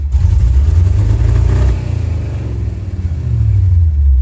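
An old junkyard car with suspected timing issues is floored in neutral. The engine roars loud and close with a deep, rough rumble, dips briefly partway through, then climbs back to full revs.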